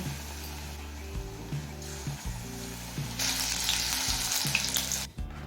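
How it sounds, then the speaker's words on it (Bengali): Water lily flower fritters frying in hot oil, a loud steady sizzle and crackle close by that swells louder toward the end, with a low background hum and no talk. "একই রকমভাবে বাকি বড়াগুলো ভেজে নেব"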